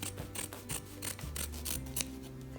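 Scissors snip through upholstery fabric for a chair, a close, steady run of rasping cuts repeating about every quarter second, with no talking.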